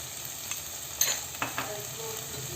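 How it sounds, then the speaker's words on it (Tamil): Onion and tomato sauté in a pan with turmeric for a masala kuzhambu, giving a soft continuous sizzle with a few faint stirring scrapes and clicks from a spoon against the pan. "வெங்காயம் தக்காளி வதங்கிடுச்சு."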